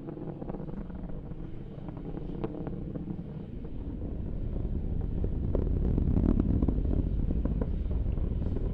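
Broadband low roar of an Atlas V rocket climbing through Max Q during launch ascent, a steady distant rumble that grows slightly louder and denser toward the end, with no voices over it.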